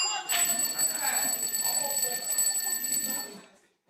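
Electric answer bells of competing quiz teams ring in turn, a sustained bright metallic ringing lasting about three seconds at steady loudness, with faint murmur beneath.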